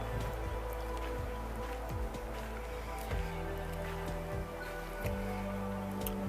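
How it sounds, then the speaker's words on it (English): Rain patters steadily on surfaces nearby at a pond with a boat dock, with scattered heavier drops and a low engine-like hum underneath. "It's raining today."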